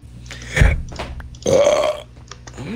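Video game burps from Minecraft: two distinct belches, the second longer and louder, sounding close and clear over a quiet in-game backdrop with no talking.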